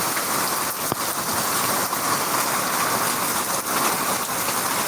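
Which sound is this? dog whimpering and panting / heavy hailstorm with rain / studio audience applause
heavy hailstorm with rain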